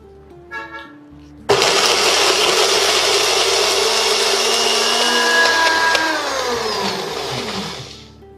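A mixer grinder blends orange peel into a paste with orange juice, starting abruptly after a quiet moment and whirring loudly and steadily, with a faint clatter before it starts and the pitch wavering near the end.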